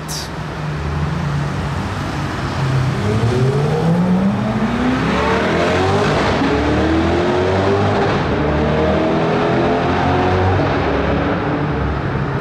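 Modified Corvette accelerating hard past the listener on a road. Its engine note climbs in rising sweeps that sound like upshifts, loud and sustained for several seconds over background traffic noise.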